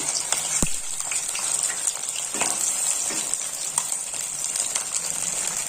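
Fish pieces frying in a pan, a steady bright sizzle and crackle throughout with a few sharper pops, close and even, with no talk.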